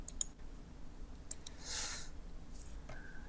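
Several crisp, close computer mouse clicks sound while working in Autodesk Inventor. A quick pair of clicks comes early, then a few scattered single ticks follow against a faint, quiet room hum.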